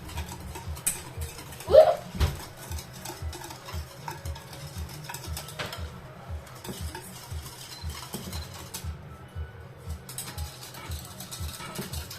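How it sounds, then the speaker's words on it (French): Crème anglaise being stirred by hand in a saucepan for île flottante, a steady rhythmic scraping and clicking of the utensil against the pan, moderately close, with a brief louder knock early on. "la crème anglaise, pour pas la rater, il faut vraiment mélanger là"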